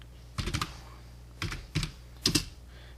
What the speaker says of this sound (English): I'm just typing a random address